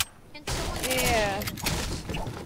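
Video game gunfire in an arena battle match against a helicopter, a dense burst of shots breaking out suddenly and rattling on loudly, mixed with game noise and a rising tonal sweep.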